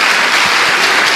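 Church congregation clapping in praise during a Portuguese-language sermon, a loud dense wash of applause sustained evenly throughout the short burst.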